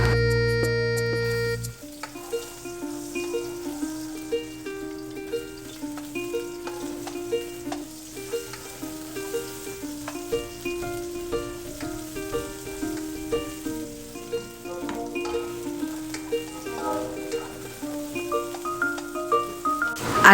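Garlic and onions sautéing in a little oil for pork ribs afritada, a light, continuous crackling sizzle heard under steady music with a plucked melody.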